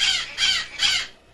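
Pet bird Good Bird gives three loud, harsh crow-like caws in quick succession, close to the microphone, with no talk over them.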